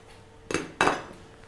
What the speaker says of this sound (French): dans un bol, je réunis la farine,